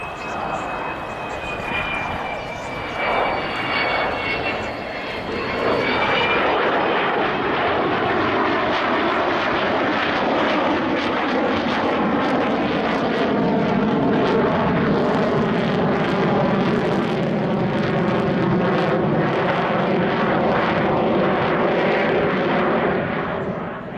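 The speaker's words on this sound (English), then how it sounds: "here comes the magnificent, the wonderful, your aeroplane, the Avro Vulcan" An Avro Vulcan bomber makes its final pass at an air show, a loud, building jet roar that swells and holds for a long stretch as it sweeps past, with a public-address commentator talking over the start.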